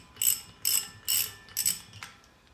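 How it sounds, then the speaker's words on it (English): A wrench ratchets with four or five quick clicking bursts, close and fairly crisp, while removing an aluminum knob from the top of a power tank. "we are gonna take a wrench on the top of this, take this off"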